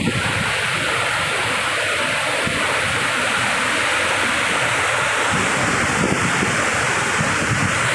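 A steady, loud rush of falling waterfall water and spray roars without a break in a forest, a dense hiss close to the listener.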